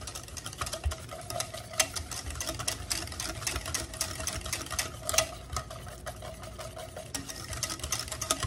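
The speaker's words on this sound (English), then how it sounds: "I'm going to dump part of it in there and just stir it a little bit like that" Powdered sugar being stirred by hand into chocolate sheet cake frosting, a steady close scraping and rustling with irregular soft clicks and ticks of the spoon against the bowl, no voices.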